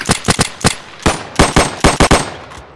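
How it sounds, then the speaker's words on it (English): Rapid gunfire in a Roblox roleplay game: a loud burst of about a dozen sharp shots, first in quick clusters, then a brief pause, then another rapid run of shots. "I grabbed like 50 guns, so I'm just rapid firing."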